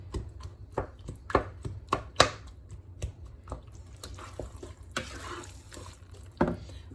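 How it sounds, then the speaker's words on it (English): Tinned plum tomatoes get a quick chop in their juice for a lentil Bolognese, giving soft, wet, irregular knocks and squelches with quiet pauses between them. "Your tin of plum tomatoes, or chopped tomatoes, just give them a little chop up if they are plum."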